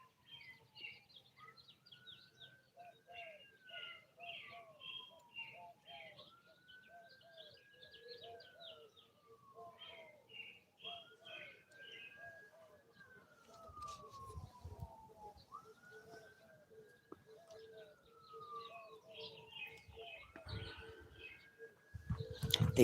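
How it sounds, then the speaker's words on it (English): An ambulance siren wails in repeated rising-and-falling sweeps, fairly distant, while birds chirp and coo throughout on a Sunday morning; a low rumble builds near the end. "It's an ambulance you hear."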